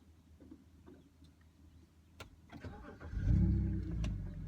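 A BMW E92 330i engine cranks and fires up after a brief push-button start click, settling into a deep, steady rumble close by.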